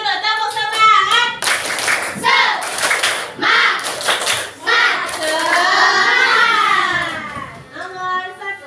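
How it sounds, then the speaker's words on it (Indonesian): A classroom of primary school children does a rhythmic spirit clap, with bursts of loud group clapping between stretches of chanting young voices. "Tepuk semangat dulu, tepuk semangat."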